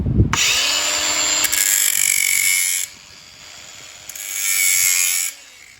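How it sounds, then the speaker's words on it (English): A grinder works the edges of a forged steel octagon, a close, loud high-pitched whine in two separate bursts with a brief lull between, with a sharp metallic clatter at the start. "So I'm going to grind this edge, and I'm going to grind this edge."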